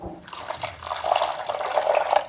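Warm water being poured into a bowl of flour, yeast and salt for wheat bread dough, a close, continuous splashing and gurgling stream that rises in pitch as it fills.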